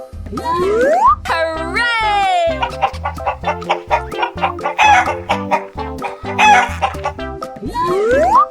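A cartoon chicken in a 3D animal slide game crows loudly and clucks in a quick run, with whistling slide sweeps at the start and end.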